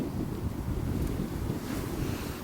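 Strong, steady wind buffets the microphone outdoors, a loud continuous roar with no break.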